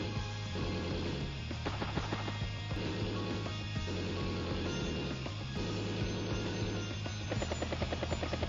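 A battle copter unit deploys in an Advance Wars-style strategy game, giving a steady, loud rotor buzz and whir that holds throughout with small pulses and no talking.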